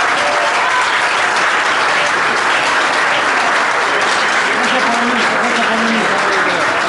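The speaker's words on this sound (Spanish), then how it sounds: "le pido un aplauso para Marcelo" Loud, dense crowd applause for an organizer at a DJ party event, a steady roar of clapping with a faint voice surfacing briefly near the end.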